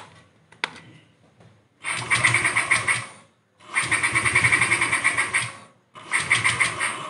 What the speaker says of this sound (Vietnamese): giờ nổ máy nè.